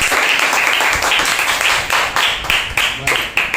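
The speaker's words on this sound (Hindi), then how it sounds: "जोरदार एक ताली बजाइए" A church congregation claps together during a Wednesday service, a dense, steady patter of many hands with slight surges, sustained for a few seconds.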